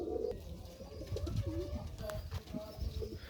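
A Kalpeti pigeon coos softly in a short series of low, throaty calls, close by against faint background noise.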